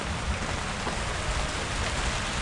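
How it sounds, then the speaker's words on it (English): Steady rain pours down outside a camper, a dense, even hiss of falling water heard close and continuous with no voices. "it is raining outside"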